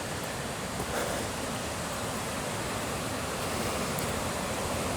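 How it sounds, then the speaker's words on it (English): A river roars below in the Kanmangafuchi Abyss in Japan, a dense, unbroken rushing wash that holds steady throughout with no voices. "the sound of that river just roaring down there is"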